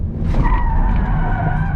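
Citroën C4 Cactus compact SUV tires skidding under handbrake, a short loud squeal close by over engine rumble.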